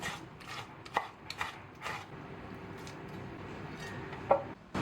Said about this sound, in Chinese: 直接给它切成丝就可以了。